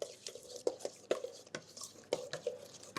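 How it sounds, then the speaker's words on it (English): A spoon mixes Greek-style yogurt with cumin, coriander and smoked paprika in a bowl, giving quiet, regular wet stirring strokes and soft taps against the bowl, close and unhurried. "I'm just simply going to mix that together"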